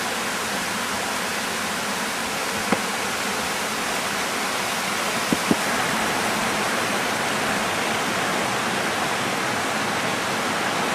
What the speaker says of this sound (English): You can see right up through those trees where the water pours over the edge.